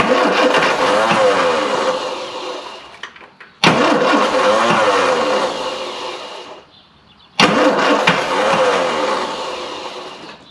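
A classic Mini van engine, off the road for 25 years, cranks over in three long bursts separated by short pauses, the starter churning loudly and the engine catching briefly without firing.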